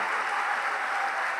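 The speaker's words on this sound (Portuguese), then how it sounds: "Aplauda, aplauda, aplauda, abra a boca e dá glória." A church congregation applauds during a worship service in Rio de Janeiro, a dense, steady wash of clapping from a large crowd that holds loud and unbroken throughout.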